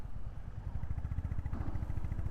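A Honda motorcycle engine thrums with a rapid, pulsing exhaust beat, easing off briefly before the revs rise again. The bike is heard close and alone, with no voices.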